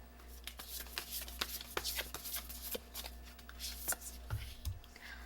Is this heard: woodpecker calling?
no